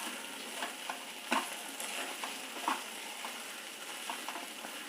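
Kuzhambu curry sizzles softly on a slow flame in a home kitchen, with a steady low bubbling hiss broken by a few light stirring clicks and taps. The sound is fairly quiet and there is no talking.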